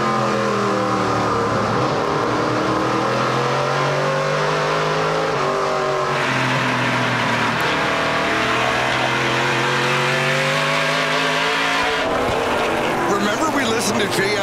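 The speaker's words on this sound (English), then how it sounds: "You can hear the sounds of the engines as we ride on board with these drivers." Onboard NASCAR Pinty's Series stock car engines at the Luxuur 300 roar loud and steady, rising and falling through gear changes with throttle blips and lifts, a continuous racing drone from start to finish.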